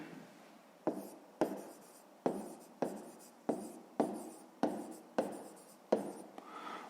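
A pen or pencil writes by hand on paper, giving faint scratchy strokes in a regular rhythm, each starting with a sharp tap and fading, about eight strokes close by with no talk.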